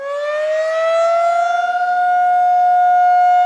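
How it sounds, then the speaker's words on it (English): A civil defense siren rises and holds a steady, loud wailing tone, close and alone. "Where were you when the siren went off?"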